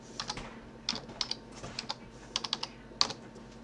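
A password is typed on a computer keyboard, quiet, close key taps coming in short irregular bursts with brief pauses between them.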